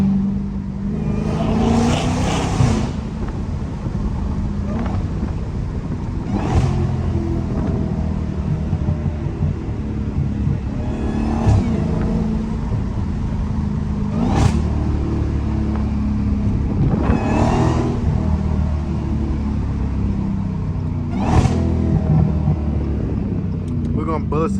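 Dodge Hellcat driven on city streets toward a park, engine rumbling steadily with several sharp revving bursts as it accelerates, heard from inside the car with wind buffeting and voices talking over it.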